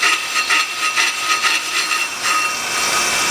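A Pro Cut PFM 9.0 brake lathe cuts a worn brake rotor with a continuous high whine and a rhythmic, pulsing scrape. The sound is close and steady throughout, with no talk.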